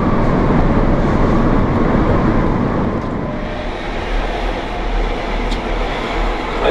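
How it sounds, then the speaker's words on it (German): Train rolling past at close range, a loud steady broadband rumble and rush of wheels on track that holds throughout, easing slightly midway, with no voices. "Das ist der vierte Zug, der hier vorbeirollt."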